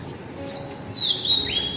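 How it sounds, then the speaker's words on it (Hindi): Birds in a village at morning give several high, thin chirps and short tweets, moderately near, scattered across a couple of seconds over a quiet background hum. "ध्यान से सुनिए पक्षियों की आवाज़"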